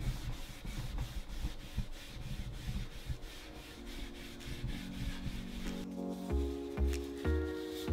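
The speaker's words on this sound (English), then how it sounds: "I'm gonna sand it a bit so the finish will stick on it" Walnut wood being sanded by hand before finishing, a close scratchy rubbing in rapid repeated strokes, then a few clunks and a faint tonal hum near the end.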